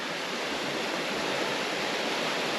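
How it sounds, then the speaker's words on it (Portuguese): A river rushes past in a steady, loud broadband roar of flowing water near a mountain waterfall in snowy terrain, continuous and unbroken with no voices. "Olha que fixe, aqui o rio a passar."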